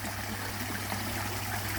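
Water runs steadily over a garden pond waterfall, a continuous trickling and splashing rush that stays even throughout, with a low constant pump hum underneath and no voices.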